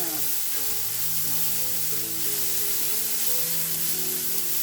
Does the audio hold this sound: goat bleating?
no